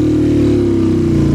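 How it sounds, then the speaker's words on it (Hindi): Motorcycle carrying two riders straining up a steep mountain road on the Deosai plateau, a loud, close, steady labouring engine drone with a pulsing low throb. "दो बंदे बिठा के इधर मोटरसाइकिल नहीं चढ़ता"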